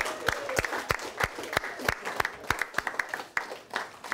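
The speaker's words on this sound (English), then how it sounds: "give yourselves a round of applause" Students in a science classroom clapping for themselves, a modest burst of applause from a small group with distinct individual claps, sharp and close, keeping up a steady patter for several seconds.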